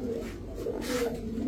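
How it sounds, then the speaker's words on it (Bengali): Soft, low cooing from a large female racing pigeon, a continuous murmuring coo running through the short clip at close range with no talk. "মাদি কবুতর, মাদি কবুতর, বডি দেখেন, অনেক চওড়া সিনা"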